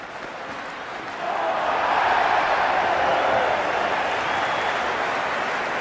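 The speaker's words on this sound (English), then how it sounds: "There's a buzz, a real buzz coming from the stands." Crowd in the stands of a Cricket 26 IPL match between CSK and MI rises into a loud, sustained roar and buzz after a quieter opening second, steady and enveloping.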